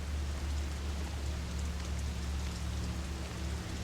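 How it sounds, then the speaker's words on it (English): Rain pounding thin window glass in the video game Fatal Frame: Maiden of Black Water: a dense, continuous hiss of heavy rain with a steady low rumble, alone and unchanging throughout. "Rain is pounding the thin glass of the window."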